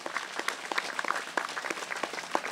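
Congregation applauding during a Hindi-language church sermon, a dense, steady wash of many hands clapping at moderate distance, continuous throughout with no speech over it.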